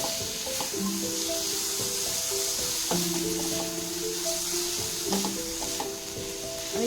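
A spatula scrapes and taps through paneer roll filling with beans, cumin powder, coriander powder and chopped coriander leaves in a pan, over a low continuous sizzle. The stirring strokes come at an irregular pace, close and moderately loud.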